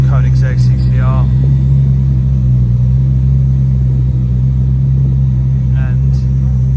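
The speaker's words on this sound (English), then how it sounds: "Then we've got some more Koenigsegg CCR." Koenigsegg CCR hypercar in a convoy at Goodwood, a steady loud low engine rumble running throughout, with brief voices over the droning traffic noise.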